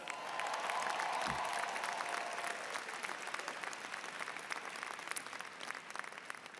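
Applause for first-generation college students at a graduation ceremony rises as a broad, fairly distant crowd clapping that fades slowly over several seconds.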